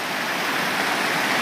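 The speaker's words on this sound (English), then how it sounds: "I'm at the top of the waterfall with Zane and my dad." A waterfall heard from the top roars as a steady, loud, broadband rush of falling water with no pauses and no voices.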